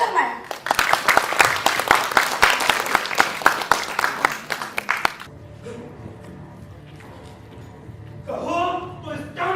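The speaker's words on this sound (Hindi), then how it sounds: "तो जोरदार तालियों से स्वागत कीजिए कहानी संक्रमण।" An audience claps rhythmically and loudly to welcome the stage play Sankraman, steady close applause for about five seconds that then stops, followed by quiet room sound and a voice beginning to speak.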